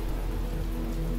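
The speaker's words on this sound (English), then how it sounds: "Ooh, rainy." Steady rain hisses and patters in The Talos Principle video game, a constant dense wash of falling water with no break over a brief moment.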